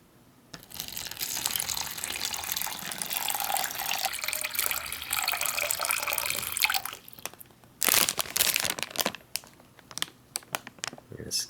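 Water pours steadily for several seconds into a plastic MRE drink pouch for lemon lime beverage, then plastic crinkles and a few knocks and rustles follow.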